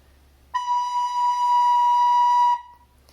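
A recorder sounds a steady held B, fingered with the thumb and first finger, one clean note lasting about two seconds, close and fairly loud, with no talking.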